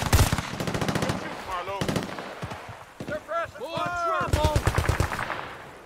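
Rapid machine gun bursts in a Battlefield: Bad Company 2 PC mission, loud rattling volleys at the start and near the end with electronic chirps and effects between them.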